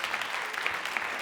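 A comedy club audience at a stand-up show breaks into brief, steady applause, a dense patter of many hands that fills the room for a moment without a pause.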